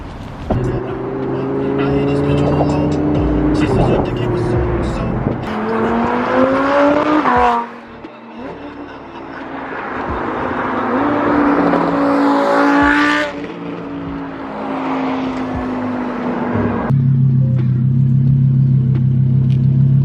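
Lamborghini Huracan and Audi R8 sports cars, including a Huracan Evo, driving in a group, engines droning and rising in pitch through several revving accelerations and gear changes, loud and close, with people talking over the engine noise.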